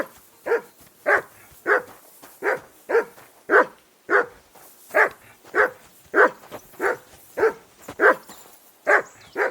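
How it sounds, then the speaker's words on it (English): A dog barks in the medieval video game Kingdom Come: Deliverance 2, a steady run of about sixteen evenly spaced barks at close range and fairly loud, with no talking over them. "Call off that mutt of yours."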